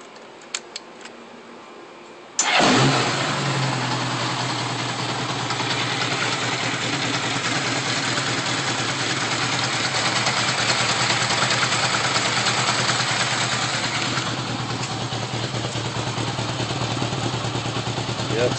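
A Honda GL1100 motorcycle engine cranks and catches after a few faint clicks, then settles into a loud, steady, close idle with a rough, throbbing low rumble.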